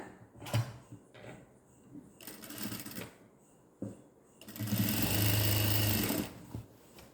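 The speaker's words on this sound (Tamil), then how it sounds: "ரெண்டு தையல் போட்டுடுங்க டபுள் ஸ்டிச் போட்டுடுங்க ஷோல்டர் ஜாயின் பண்ணுற இடத்துல" A sewing machine runs in short bursts, double stitching the shoulder seam of a churidar, with a longer steady run near the end between quieter pauses and handling noises.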